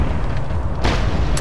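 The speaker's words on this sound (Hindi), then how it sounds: "काबूम, धमाका" A deep, loud boom rumbles as a machine is blown up in the video game Mad Max, a heavy low-end roar that swells midway with a crackling burst on top.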